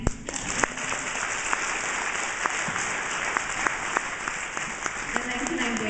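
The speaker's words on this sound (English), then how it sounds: "Can we first clap for Mr. Lady again" Audience clapping at a community keynote event, a moderate, fairly even patter of hands with occasional sharper claps and faint voices mixed in.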